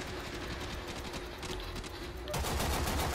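Rapid automatic gunfire from a Warframe shooter game rattles on in dense, continuous bursts, growing louder and heavier for the final second.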